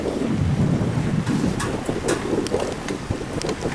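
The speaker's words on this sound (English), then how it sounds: "We've got a bit of a wind kicking up" Wind gusts buffet the microphone outdoors on a bamboo bridge in Vietnam, a loud continuous rushing roar with rumbling low-end fluctuations and a few faint scattered ticks, no voices.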